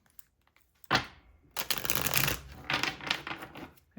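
Shuffling of a large deck of tarot cards, a short riffle burst followed by a longer run of close, crisp flapping and sliding card noise with a few uneven pauses.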